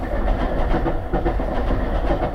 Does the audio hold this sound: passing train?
yes